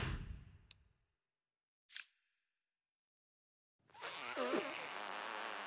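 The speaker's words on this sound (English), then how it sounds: "What is the sound of one anus farting?" A cartoonish fart from South Park: The Fractured but Whole: a short, low, sputtering burst that trails off into silence, then a sharp click, a brief hiss, and finally a busy, noisy in-game ambience.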